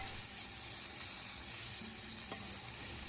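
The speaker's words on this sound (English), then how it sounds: "Then add the chopped onion and sliced red bell pepper. Sauté over medium heat until the onion becomes soft." Chopped onion and sliced red bell pepper sauté in a skillet over medium heat, giving a steady, close sizzle and crackle that runs without a break.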